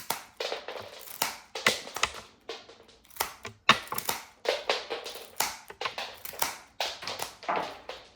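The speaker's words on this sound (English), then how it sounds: "then just cut the stems flat" Bouquet flower stems are cut flat with a cutting tool in a run of sharp, close, crisp snaps and crunches, repeated in an uneven rhythm across several seconds, with no speech.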